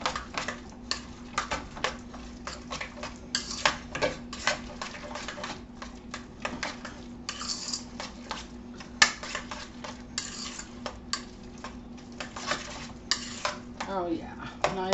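Utensils clatter and scrape in a pot while a lasagna meat mixture with salt is stirred, steady irregular clinks and scraping close by, with a faint hum beneath and no speech.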